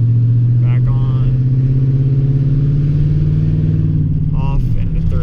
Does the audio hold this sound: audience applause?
no